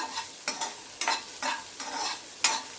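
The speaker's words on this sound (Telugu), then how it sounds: "ఇవి కూడా బాగా ఏగనిద్దాం" Carrot pieces frying in a pot for sweet corn soup, with a soft sizzle under rhythmic scraping strokes of a spoon roughly every half second, close and moderately loud, no voices.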